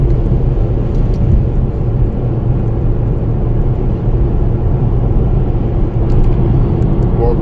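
Inside a car on the drive from Mayo to Dublin there is a steady, loud low rumble of engine and road noise that holds without a break and has no speech over it.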